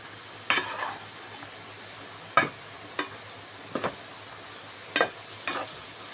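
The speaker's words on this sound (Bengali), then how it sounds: "মাংসটা খুব ভালোভাবে কষাচ্ছি।" Beef is stir-fried and seared in a pan for a Bengali beef curry, with about six sharp spatula scrapes and clatters at irregular intervals over a faint, steady sizzle.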